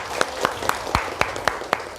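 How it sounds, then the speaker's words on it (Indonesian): A class of eighth-grade students at an Indonesian Islamic junior high claps in a slow, even rhythm, about eight sharp, loud claps spaced roughly a quarter second apart. "tepuk tangan untuk 8K"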